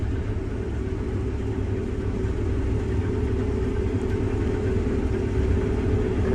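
A combine harvester runs steadily through a soybean field, a loud continuous low engine drone with constant mechanical hum and no pauses, heard close up from the cab.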